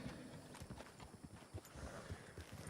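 Three wild horses trapped inside a fenced area walking about, hooves clip-clopping in an uneven, continuous patter at close range, fairly quiet with a steady background hiss and no voices.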